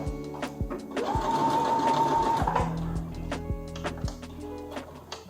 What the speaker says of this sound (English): So now I'm going to sew this part and then sew to the inside of the pants.